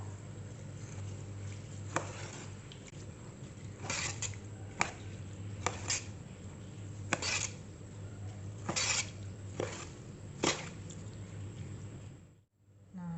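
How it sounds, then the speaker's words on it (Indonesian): Quiet scraping and light clinking of a spoon stirring yellow rice mixture in a bowl, irregular taps against the sides over a low background hum. "Kita aduk-aduk ya pakai sendok biar merata."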